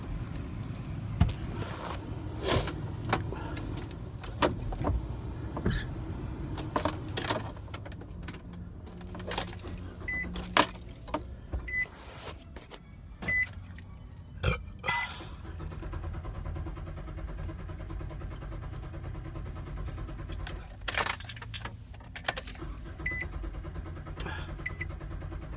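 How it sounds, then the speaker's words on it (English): Keys jangle repeatedly in the ignition of a 2015 Nissan NV200 that fails to start, with sharp metallic clinks in bursts over a low background rumble and no engine catching. "here I am trying to turn on the car and nothing's happening"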